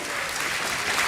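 Quiet, steady applause from guests at a fundraising gala donor appeal, a distant wash of many claps lasting about a second.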